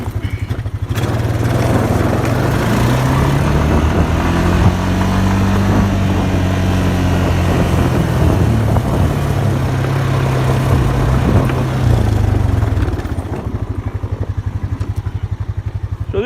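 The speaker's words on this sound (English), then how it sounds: "Let's jump back on the four-wheeler here" A four-wheeler ATV engine drives along close by with a loud, steady rumble that rises and falls in pitch as it moves, then settles to a lower idle toward the end.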